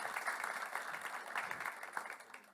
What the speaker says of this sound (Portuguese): vamos aplaudir também Luiz Sacuda.